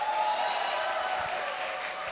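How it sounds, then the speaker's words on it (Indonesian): An audience at a Hindu youth leadership training camp claps together, a continuous, fairly dense patter of applause that stays level and then eases slightly toward the end, with no clear voices. "Semangatnya mana, tepuk tangannya?"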